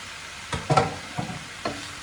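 Boneless chicken stirred and frying with onion, coriander and garlic in a pan, giving a few distinct scraping stirs with a light sizzle underneath, close and fairly quiet.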